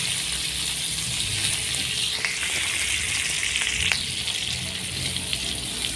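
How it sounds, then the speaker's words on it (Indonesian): Seasoning paste sizzles steadily in leftover squid-frying oil for Betawi salted squid, a continuous close frying hiss with occasional faint scrapes of stirring and no talk. "ini kita tumis-tumis sampai benar-benar harum atau sampai matang lah"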